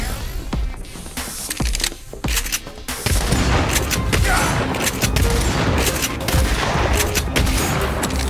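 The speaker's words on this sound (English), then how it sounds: "You gotta shoot his balls before they hit you." Rapid, dense gunfire from shooting dark matter energy balls in the video game Agents of Mayhem, a sustained loud barrage with booms, broken by brief gaps early on and then continuous, with faint talk underneath.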